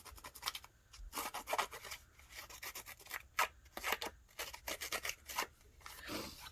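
Paper edges being roughed up with a distressing tool, a rapid series of close, dry scraping strokes in uneven bursts, fairly quiet with no speech.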